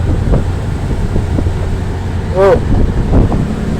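On a ship on a rough sea, strong wind buffets the microphone over a deep, steady rumble of the vessel and water, while a voice briefly exclaims.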